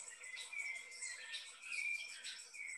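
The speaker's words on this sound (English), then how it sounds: "dawn chorus, the cocoa thrush dominating the dawn chorus" A dawn chorus led by cocoa thrush: faint, distant birdsong with repeated warbling and whistled phrases over a soft, high background chatter of other birds.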